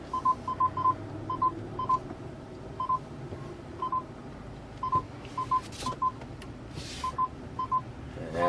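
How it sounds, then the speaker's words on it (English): A FenSens backup parking sensor on a DIY Android car infotainment tablet beeps in short repeating chirps, sometimes paired, over a low car cabin rumble. "I have it off right now, but I'll turn it on so you can hear it."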